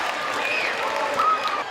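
A home crowd at a high school basketball game cheers and applauds in a steady roar across a gym, with whistles and shouts rising through the noise, full and sustained from start to finish.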